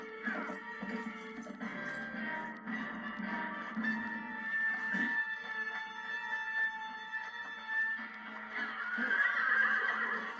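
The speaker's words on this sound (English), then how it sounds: "I'm riding a horse!" A horse whinnies and snorts in long, wavering calls over a steady background, sounding fairly close and growing stronger toward the end.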